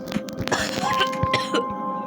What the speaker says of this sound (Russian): Она покашляла.